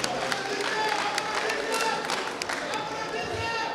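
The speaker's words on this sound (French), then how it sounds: "Madame Cissé mérite vos applaudissements." An audience at a public ceremony for a youth professional training initiative breaks into scattered clapping, with crisp overlapping claps under a speaking voice.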